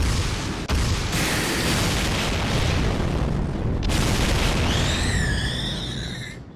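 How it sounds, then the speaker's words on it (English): Rapid video game explosions from a barrage attack in Fate/Grand Order, a dense, loud rumbling wall of consecutive blasts and booms that runs for several seconds, ending with a whooshing, swirling effect. "Consecutive impacts confirmed."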